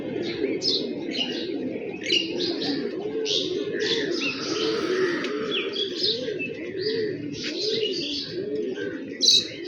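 Pigeons cooing in the early morning around a flying session, a steady run of rolling, repeated low coos with brief higher chirps layered over them, fairly close and continuous, no talk.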